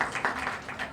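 Brief, fairly faint applause from an audience at a Tamil cultural introduction event before a dance performance, a short patter of clapping that fades and swells slightly.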